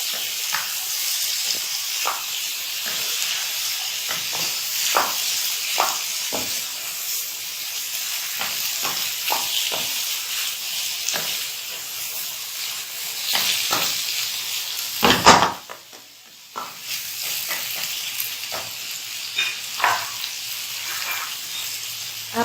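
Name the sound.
chana dal frying with onions in a pan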